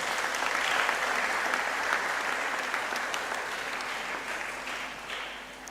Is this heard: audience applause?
yes